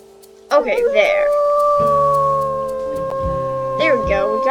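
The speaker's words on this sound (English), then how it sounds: "We got a howl out of her." A wolf in the video game Wolf Quest 3 lets out a long, sustained howl, loud and clear, with rising and falling yips and voice-like calls around it; a person speaks briefly at the start.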